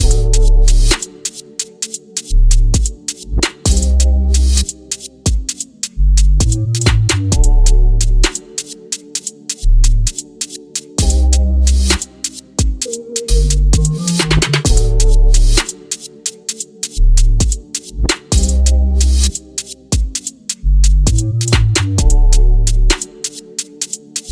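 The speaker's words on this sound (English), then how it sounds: "I'm going to quickly play this beat" Drill beat played back loud and alone, with booming sliding bass hits, crisp rapid hi-hats and a melodic line in a steady, repeating rhythm.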